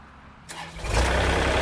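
A Kubota L3608 tractor's diesel engine cranks and catches, quickly rising into a loud, rough rumble that settles into a steady run, heard up close.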